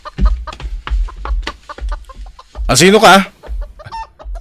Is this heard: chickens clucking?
yes